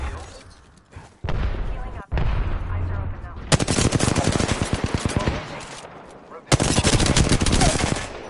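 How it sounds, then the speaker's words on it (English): Gunfire in an online battle royale shooter game: sustained rapid automatic bursts, loud and close, broken by short gaps, with a player talking over parts of it. "Yep, I'm getting shot at."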